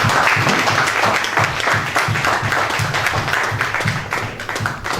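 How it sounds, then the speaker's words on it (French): A church congregation applauds and cheers loudly and continuously, dense steady clapping with raised voices mixed in, filling the space without pause. "Est-ce qu'on peut acclamer très fort?"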